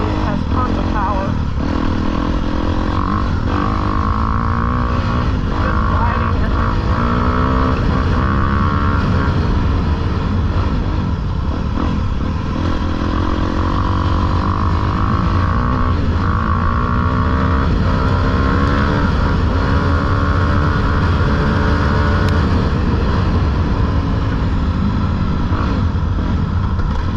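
A 2022 Honda CRF250R dirt bike engine revs and pulls hard in gear, loud and close throughout, its pitch climbing and falling as the bike accelerates.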